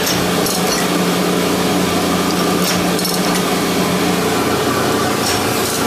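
An old Abrasive Machine Tool Co. Model 3B surface grinder runs as its table traverses a workpiece, giving a loud, continuous mechanical whir with a steady low hum and no break.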